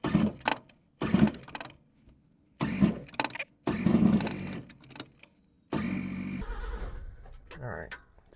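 A car engine is cranked after a fuel pump fix, giving several short, rhythmic grinding bursts of the starter separated by pauses, then a longer sustained crank; close and fairly loud, with people speaking around it.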